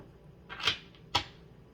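Tarot cards are shuffled by hand in two quick, quiet riffling bursts about half a second apart, with near silence around them.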